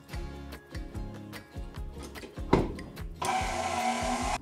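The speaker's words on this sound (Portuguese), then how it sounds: "E agora que o nosso chantilly já chegou no ponto, tá bem firme, nós desligamos a batedeira" An electric hand mixer whips chilled cream into firm chantilly, a rhythmic whirring that pulses with each stroke, then shifts into a harsher steady buzz near the end.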